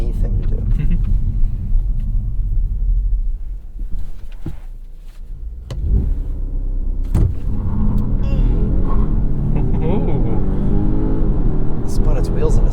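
A 2023 Volvo S60 Recharge launches hard from a standstill, a steady low rumble of drive and tire noise rising under loud, continuous in-car conversation.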